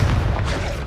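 A Confringo blast spell going off in the Hogwarts Legacy video game, a single short, loud, low boom that fills the whole moment.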